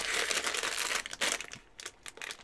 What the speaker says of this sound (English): let me get a knife. And we'll cut open all the bags.